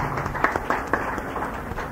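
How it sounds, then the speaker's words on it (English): Audience clapping at the close of a tax seminar on domestic transfer pricing, a dense patter of hands with a few sharper claps standing out, steady and fairly close. "request you all to carry out with this round of loud applause"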